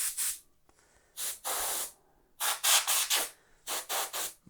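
Cleaner sprayed onto grimy old computer parts during a restoration: repeated short hissing bursts from a trigger spray bottle, single squirts then quick runs of three, close and loud with quiet gaps between.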